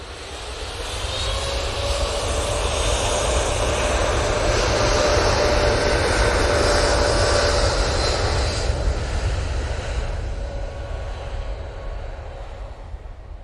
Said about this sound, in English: Taking a little bit wider turn most of the aircraft today to get onto centre line.